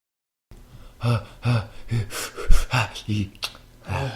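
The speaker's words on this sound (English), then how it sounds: "I'm trying to calm down with breathing." Exaggerated breathing meant to calm down, a series of loud, close, rhythmic puffing breaths and gasps repeating about every half second.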